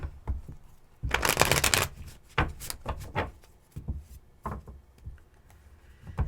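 Tarot cards being shuffled in a long riffling burst, followed by several shorter flicks and taps of cards, close up with no talking.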